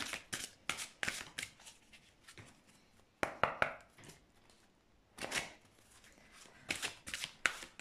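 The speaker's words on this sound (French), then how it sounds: "Je vais tirer quelques cartes." Oracle cards are shuffled and drawn by hand, with a run of quick, crisp riffling bursts and flicks, a brief pause midway and then more close, dry card slaps and slides, alone with no talk.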